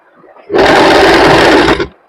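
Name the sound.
sewing machine double-stitching kurti fabric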